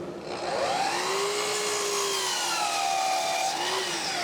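A power saw slicing through decorative wood trim for a corner cupboard capital in a woodshop, giving one sustained, loud whining cut whose pitch sags and rises as the blade works through the piece.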